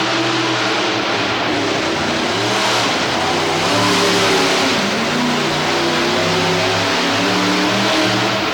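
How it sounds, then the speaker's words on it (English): A big-block KB Oldsmobile race engine revs hard and steadily, raspy, loud and close, its harmonic pitch rising and falling in waves throughout. "Hear the rasp of that big KB Olds in the back of that machine."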